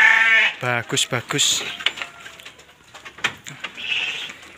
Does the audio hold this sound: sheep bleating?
yes